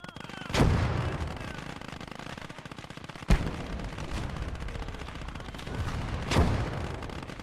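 Rocket artillery fires in the WWII Eastern Front game Call to Arms: Gates of Hell Ostfront, with loud booming launches near the start, middle and end over a continuous rumble of battle, without speech.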